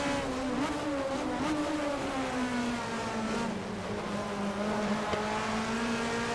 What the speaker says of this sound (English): I could hear his engine.